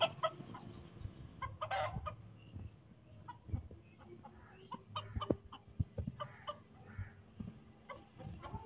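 Chickens cluck in a village yard with Aseel game roosters and desi hens, brief irregular clucks and calls scattered near and far over low background rumble, with no talk.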